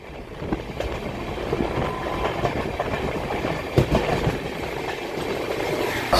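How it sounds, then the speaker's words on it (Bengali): Amrit Bharat Express running from Sealdah toward Varanasi rumbles steadily on the rails near Asansol, a continuous loud roll with occasional sharp clacks of wheels over joints. "এই মুহূর্তে আমাদের ট্রেন ঢুকছে তার দ্বিতীয় হাউস স্টেশন আসানসোল"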